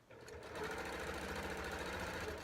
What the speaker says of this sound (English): Tonight I'm sewing on my brother. It's a PQ 1500 SL.